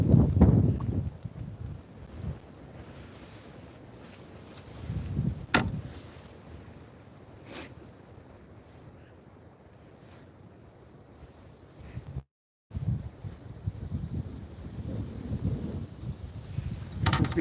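Wind gusting over a small fishing boat on open water, rumbling and buffeting the microphone in uneven low surges, with a steady airy background and a brief cut-out partway through.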